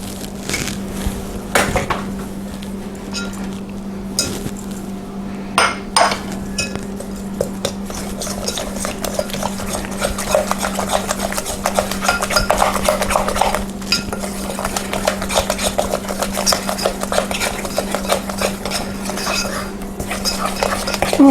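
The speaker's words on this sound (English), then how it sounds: "made after an antique egg beater, which helps to mix that very well" An antique-style hand egg beater churns low-carb brownie batter in a bowl, giving a long, steady whirring with frequent metallic clinks and scrapes, close and fairly loud.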